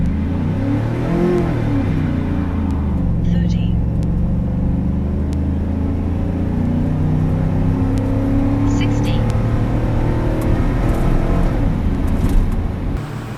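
A 2003 Chevrolet Silverado street truck roars through a hard acceleration run, its engine note climbing steadily and loudly through the gears with a deep, rumbling exhaust.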